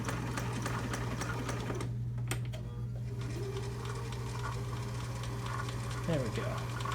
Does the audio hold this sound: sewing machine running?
yes